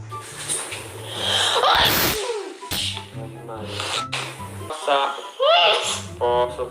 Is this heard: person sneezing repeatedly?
yes